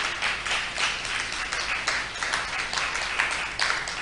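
Sustained crowd applause and cheering at a church convention, a dense, even wash of many clapping hands with swells and slight peaks, moderately loud and continuous.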